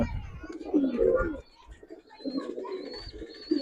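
Giribaz pigeons give soft, close cooing calls in two short bursts with a brief gap between, and a faint chirp sounds higher up.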